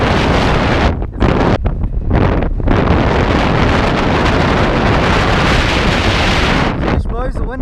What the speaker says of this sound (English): Sheesh, dude, it's super windy.